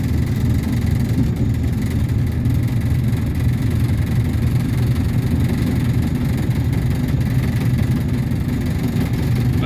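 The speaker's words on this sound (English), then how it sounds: "this is a Freightliner. It wasn't built for smooth riding. A lot of noise." Freightliner hi-rail truck riding on rails along class 2 track at about 25 mph, its engine giving a steady, loud, continuous low drone and rumble with constant vibration throughout, no pauses.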